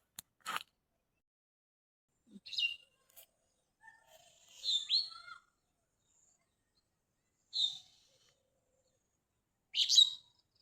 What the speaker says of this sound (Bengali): এত সুন্দর পাখির ডাক